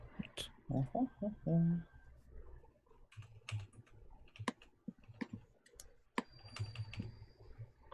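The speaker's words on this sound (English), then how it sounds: "Typing away." Clicky computer keyboard typing comes in irregular bursts throughout, moderately close, while a person talks briefly near the start.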